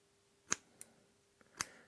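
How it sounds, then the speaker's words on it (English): Two crisp, quiet snips of scissors cutting tough saltwater fly-tying material, spaced about a second apart, with a faint tick between them in a quiet room. "See how tough it is to cut even with the scissors?"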